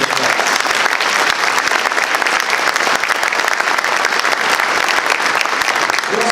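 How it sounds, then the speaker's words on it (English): A luncheon audience in a banquet hall gives a dense, steady round of applause, loud and continuous from start to finish with no talking. "Let's give them all a round of applause."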